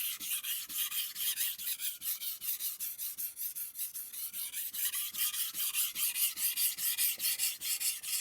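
A kitchen knife drawn across a sharpening stone, spine leading, in a fast regular series of rasping strokes, close and even, with no voices.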